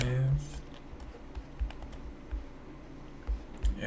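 Computer keyboard typing, scattered light key taps close by and fairly faint, following a brief bit of speech at the start.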